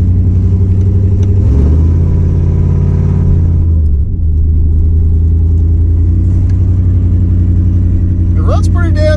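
A 1998 K1500 pickup with a swapped-in 5.3 V8 drives along, its deep, loud engine rumble steady throughout with brief rises in pitch as it revs, while people talk over it inside the cab.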